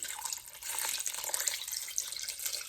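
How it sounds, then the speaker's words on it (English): Soup liquid poured into a big cast iron pot, a continuous close splashing, gurgling stream that holds steady for a few seconds without pause or talking. "I'm just going to pour it right into my big cast iron pot here."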